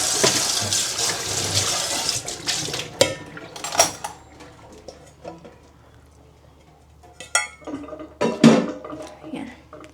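Dishes, pots and cutlery being washed in a home kitchen sink, with clattering metal and ceramic knocks, running water at first, then scattered clinks and splashes close by.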